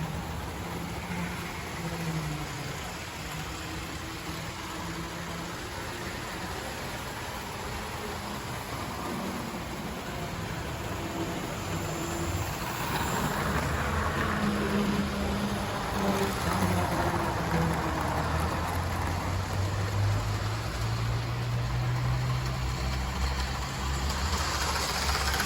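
Hornby and Tri-ang model locomotives and wagons, including a tank loco, a DMU and a Class 37, running on model railway track, giving a steady close rumble and whirr that swells slightly in the second half, with no talking.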